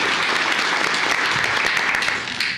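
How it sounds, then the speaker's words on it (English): A loud round of applause in a county commissioners court meeting, dense steady clapping from the room for a couple of seconds before tapering slightly at the end. "Let's give her a round of applause."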